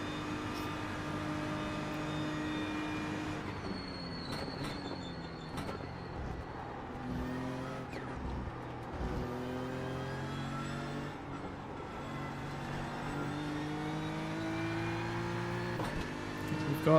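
Ford and BMW DTM race car engines in iRacing, a continuous roaring drone with shifting pitch sweeps as the cars accelerate and change gear, heard steadily without talk.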